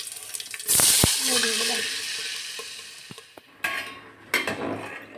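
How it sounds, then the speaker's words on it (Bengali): Spices crackling in hot oil for a masoor dal tempering, with a loud sizzling burst, clinks of a spoon against the pot and stirring sounds, close by and then trailing off before another splash of sizzle. "ডালটা ফোড়ন দিয়ে নিই এখন"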